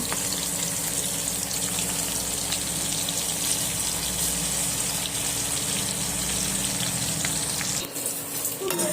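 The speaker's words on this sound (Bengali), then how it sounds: "এবার মাঝখানে আমি কাঁচা লঙ্কা আর পেঁয়াজ দিয়ে এগুলোকে ব্রাউন কালার করে ভেজে নেব" Green chillies and onions frying in a pan until browned, a steady loud hiss and crackle of hot oil continuing close up throughout, with a brief dip near the end.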